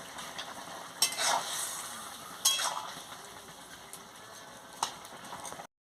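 A pan of pumpkin, potato, eggplant, carrot and fried, crumbled fish head chochchori is stirred, giving soft sizzling with three distinct scraping strokes of a spatula, quiet and close, ending abruptly.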